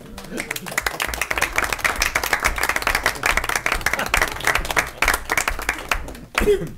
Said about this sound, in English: And I'd like Ann to stand up for a little applause